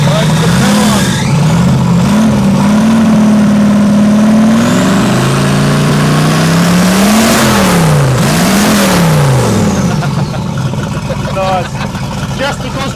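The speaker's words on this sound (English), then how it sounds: "And then we can rev it." A Mopar car with a supercharged small block engine revs loudly and close, the pitch climbing and falling through several throttle blips over a rough idle, with people talking over it.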